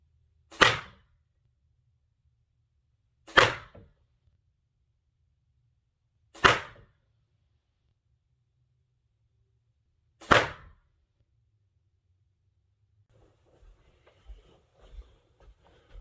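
Four sharp, loud arrow impacts from a Sirius Apollo 300 bow with a field tip striking a covered MarXman 17x17x15 broadhead target, spaced about three seconds apart, followed by faint rustling and small clicks.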